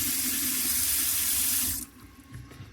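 Rainwater from a tank gushes steadily from a tap into a sink in an off-grid home in the Australian bush for nearly two seconds, then shuts off, leaving quiet drips and room noise.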